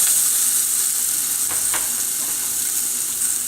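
Mushroom and tomato with black mustard seeds fry over a high flame, a loud, steady close sizzle with a few brief crackles and stirring scrapes, no voices.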